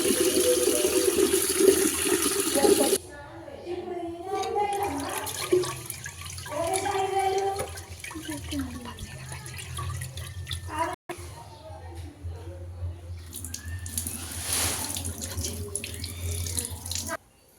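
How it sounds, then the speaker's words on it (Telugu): Rice being washed by hand in water for a bonam pot, with a loud running tap at first, then steady sloshing and splashing under a low hum, and another brief burst of running water near the end. "బియ్యాన్ని ఒక 2-3 సార్లు కడిగేసుకున్నాం"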